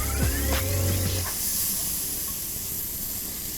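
King prawns frying in a pan, a steady loud sizzle and hiss that starts strong and eases off, with tonal clatter and scraping of the prawns being moved about in the first second or so.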